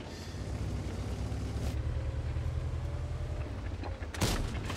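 A tank's main gun fires in World of Tanks, heard as a loud blast near the end, with rumbling engine and battle noise underneath throughout.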